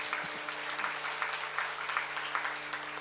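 Congregation clapping at a church seminar on a Bible lecture, a steady dense applause throughout with faint voices mixed in under a constant hum.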